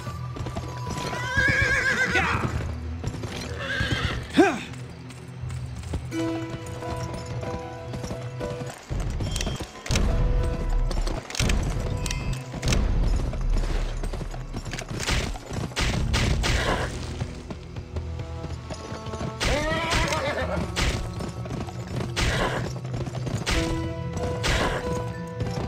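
A horse in the western video game Gun neighs and whinnies several times with clip-clopping hooves, plus thuds and crashes, in loud, busy gameplay audio.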